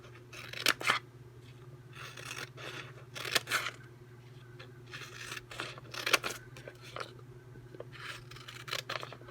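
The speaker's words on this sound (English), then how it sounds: "these ones here, I think what I would do is I would cut them" Scissors snip through sheets of hand-stamped paper stickers, a series of crisp, close cuts spaced about a second apart over a faint steady hum, with no talking.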